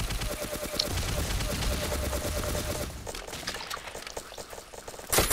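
Gunfire in the blocky first-person shooter game Ace of Spades, dense rapid bursts of shots that are loud and continuous, then thinner and more scattered, ending in a sharp loud burst.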